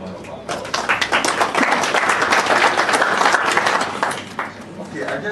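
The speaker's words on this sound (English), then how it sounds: "Let's give a round of applause." An audience at a plenary session breaks into a round of applause that swells quickly, holds as dense, close clapping and then thins into scattered claps.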